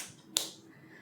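A single sharp hand clap, close and fairly quiet, lands once during a Tamil children's family-words lesson, with nothing else around it.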